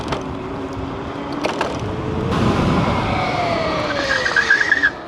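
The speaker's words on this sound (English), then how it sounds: "the traction is so bad I just skidded like 20 feet" An electric scooter skids about twenty feet with its brakes locked on a low-traction surface, a loud continuous tire screech with sliding tonal squeals that rise toward the end, heard up close under steady wind and motor noise, with no talking.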